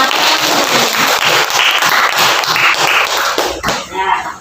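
Schoolchildren clapping together in a classroom, a loud, sustained burst of applause with a teacher's voice briefly audible near the end.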